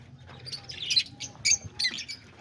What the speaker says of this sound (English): there they are, the little budgies.